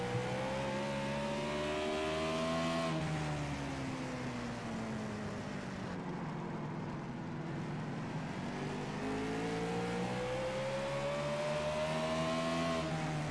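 Race cars lapping the short track at Martinsville, engines droning loud and close as pitch swells and drops through each corner, several cars running nose to tail in a continuous roar.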